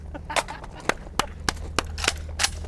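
Gunshots in a shooting video game, several sharp, snappy cracks spaced unevenly over a steady background hum, with a voice talking in between.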